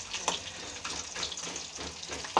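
Garlic fries in a pan for a papaya dappalam, giving a quiet, continuous sizzle with small crackles and the occasional stir.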